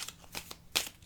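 Tarot cards shuffled for a reading: a few quick, soft riffling bursts ending in a sharper snap, close and fairly quiet.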